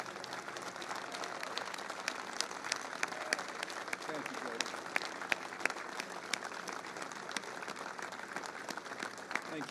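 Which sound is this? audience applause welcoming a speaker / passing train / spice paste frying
audience applause welcoming a speaker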